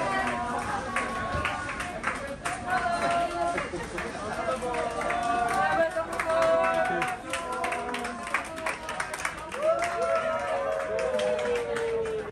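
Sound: cruise ship staff cheering and clapping

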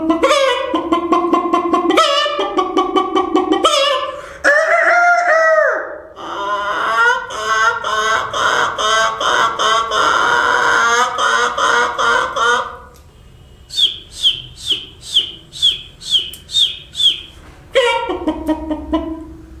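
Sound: voice imitation of a rooster crowing and hen clucking

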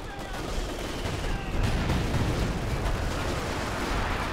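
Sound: machine gun and artillery fire in a war video game

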